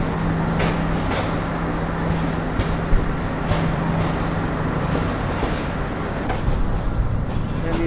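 The Paharika Express rolls along toward Sylhet, heard from inside the carriage as a steady loud rumble with a low hum and occasional rail clicks throughout, without talk.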